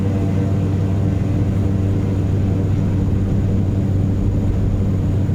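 A Cessna 208B Caravan turboprop powering up for takeoff in Microsoft Flight Simulator 2024, with a loud, steady engine and propeller drone holding constant throughout, heard close by from inside the aircraft.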